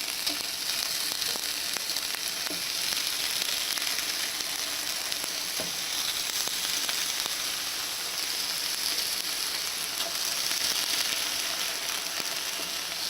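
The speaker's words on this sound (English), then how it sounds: "So the pan is nice and sizzling, so I'm gonna get the halloumi onto it." Halloumi sizzles on a hot griddle pan, a continuous close hiss with scattered small pops and crackles throughout, steady in level, with almost no talking.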